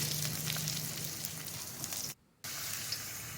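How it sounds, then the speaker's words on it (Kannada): Chilli chicken with fresh herb leaves fries in a pan with a constant, close crackling sizzle, briefly cut by a moment of silence before resuming. "ಸ್ವಲ್ಪ ಸಾಂಬಾರು ಸೊಪ್ಪು ಹಾಕ್ಬಿಟ್ಟು ಮತ್ತೆ ನೀಟಾಗಿ ಫ್ರೈ ಮಾಡಿ."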